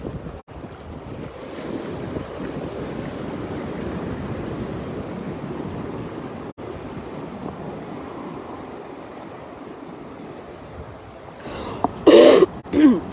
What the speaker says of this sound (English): just got that little cough, little niggling cough